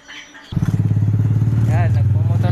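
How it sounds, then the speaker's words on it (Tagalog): A motorcycle engine starts up and runs with a steady, pulsing idle close by, while a person talks over it. "nagmumotor po kami"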